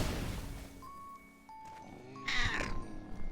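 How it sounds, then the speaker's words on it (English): A pet cat close to the microphone gives a couple of short, quiet meows with soft purring and breathy sounds in between, no talk heard. "The purring's cute."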